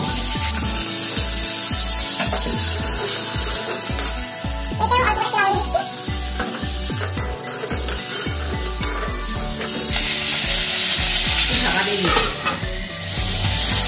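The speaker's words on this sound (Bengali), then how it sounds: "এইবার একইভাবে এবার এই হলুদ ফুলকপিটাও ভেজে নেব।" Yellow-tinted cauliflower florets sizzle loudly in hot oil in a pan, with rhythmic stirring scrapes and crackling spatter close up, a voice speaking at moments.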